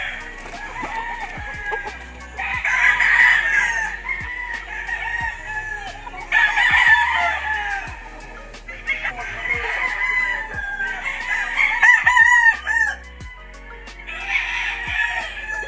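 Imported fighting roosters on a farm crow repeatedly one after another, loud and close, with chickens clucking between the calls.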